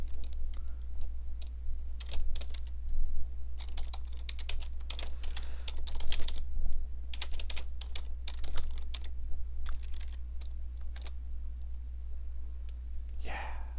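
Steady keyboard typing on a computer, a dense run of quick clicks and keystrokes with short pauses, close and clear over a low constant hum, with no talking.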